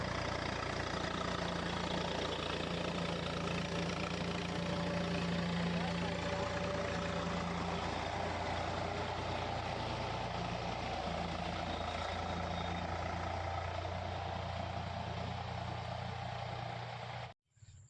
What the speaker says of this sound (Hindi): ट्रैक्टर भी आ गया है। तो अब ट्रैक्टर इसकी करेगा जुताई